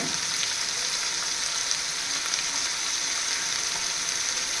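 Three large tomatoes cook in masala for Kerala-style crab fry, a constant even sizzle and hiss close by, with no talking over it.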